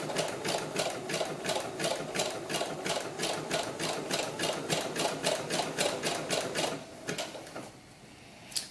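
A sewing machine stitches fabric for doll gloves, its needle hammering in a fast, steady rhythm of close, loud clatter for several seconds before it stops and leaves a quiet hum and a small click.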